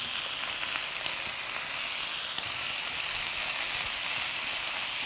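Onions with ginger and garlic paste fry in a pan for tomato rice, giving a steady, even sizzle and hiss that holds at moderate loudness throughout with no talking.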